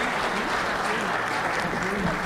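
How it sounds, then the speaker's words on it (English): Audience applause at a leadership forum panel, a steady dense wash of clapping filling the room for the full stretch, loud and continuous, with some voices mixed in. "So let's give these guys a warm round of applause."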